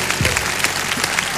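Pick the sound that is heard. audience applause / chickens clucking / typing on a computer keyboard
audience applause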